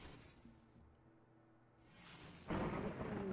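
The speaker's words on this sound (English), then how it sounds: "A flash storm!" A thunderstorm in the video game RimWorld: faint ambience swells into rushing rain, then a sudden loud crash of thunder rolls on steadily to the end, with no talking.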